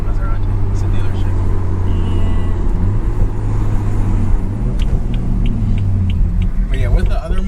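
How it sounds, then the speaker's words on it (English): Deep, throaty car engine rumble idling close by, loud and steady, with a faint voice and some clicks near the end. "That car sounds sick"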